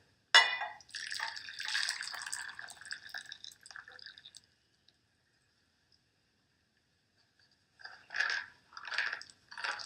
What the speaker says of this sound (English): Next, I will pour out most of the water.